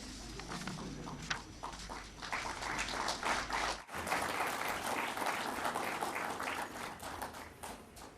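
A conference audience claps for heads of national schools of government, a broad wash of hand claps with a brief dip midway before resuming at full strength.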